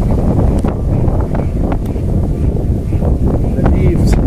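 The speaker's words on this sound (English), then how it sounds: "Today is gonna be very, very, very windy today and rain" Heavy, low wind rumbling and buffeting the microphone nonstop, with occasional faint rustling in the background.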